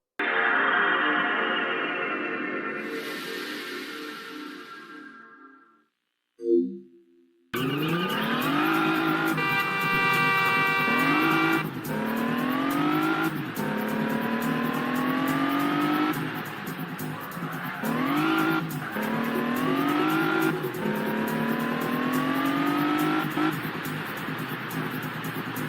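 Racing car engines in the PS2 video game Test Drive, rising and falling revs with repeated gear-shift sweeps and tire squeal, preceded by a short game menu tone and a brief gap.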